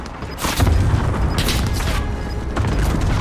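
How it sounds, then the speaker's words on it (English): A cluster strike explodes in a video game: several heavy, booming blasts in quick succession with a sustained rumbling roar between them, loud and fairly close. "Allied cluster strike arriving"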